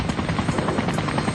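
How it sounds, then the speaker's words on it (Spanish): Military helicopter setting down a rescue team on a prison rooftop during the invasion of Panama, its rotor thumping in a fast steady pulse, loud and close over a continuous engine roar, with no voices. "Un helicóptero con el equipo de rescate se posó sobre la azotea de la cárcel."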